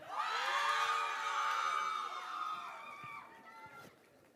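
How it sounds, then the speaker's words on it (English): A large crowd cheers, screams and whoops loudly, a sustained roar of many high voices that gradually fades out. "I want to hear you yell and scream and cheer"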